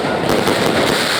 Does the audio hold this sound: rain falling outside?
no